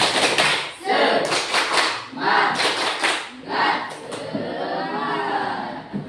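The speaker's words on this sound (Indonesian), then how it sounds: "Tepuk semangat. Ulang 2 kali lagi." A classroom group performs a rhythmic spirit clap, bursts of patterned clapping in short phrases separated by brief pauses, with voices chanting along between the claps.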